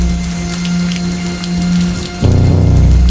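Heavy rain falls steadily through a dark night, a loud continuous wash of drops that thickens into a stronger, denser downpour near the end, with no voices.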